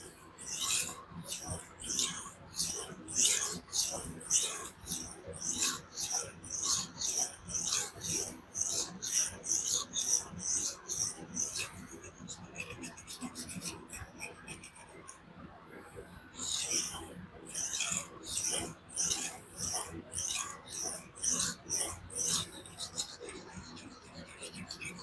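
A 12C27 steel button-lock knife is drawn across sharpening stones in rhythmic, close rasping strokes, repeated in regular bursts with a brief pause midway, while a person talks quietly at times.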